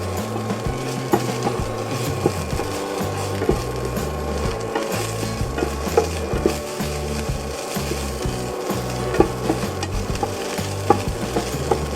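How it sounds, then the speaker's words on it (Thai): Curry paste stir-fried in a pan for a chicken jungle curry, a wooden spatula scraping and rubbing continuously against the pan under a constant sizzle, close and steady throughout. "เราจะผัดพริกแกงให้หอมนะคะ"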